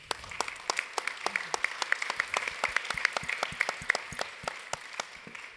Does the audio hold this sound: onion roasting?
no